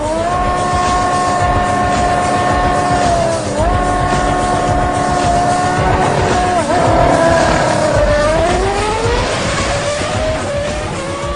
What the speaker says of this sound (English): This time, Button gets a better start and manages to pull away at the halfway point to take the win in 9 seconds